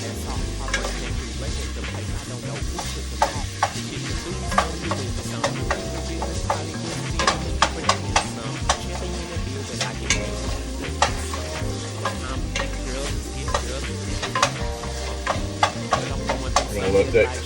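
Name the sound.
spices and seasonings frying in hot oil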